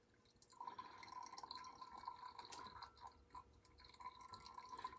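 Coffee drips through a paper filter in a glass Chemex pour-over brewer, a steady close trickle with faint tapping drops running continuously, quiet and without voices.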